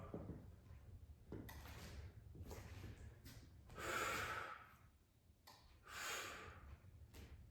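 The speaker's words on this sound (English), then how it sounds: "I'm breathing like way too much" Heavy, labored breathing after a weightlifting set, with loud breathy exhales and snorting breaths surging around the middle and again near the end, close to the mic.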